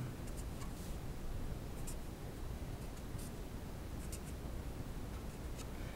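Marker or chalk scratching across a board while writing out equations, a faint, steady scraping that runs throughout with small tapping strokes.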